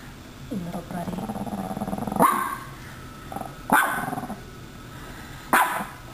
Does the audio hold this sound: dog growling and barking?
yes